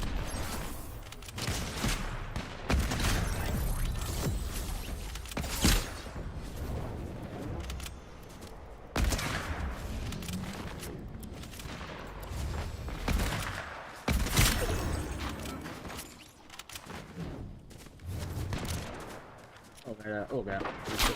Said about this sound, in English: It's just rifles only.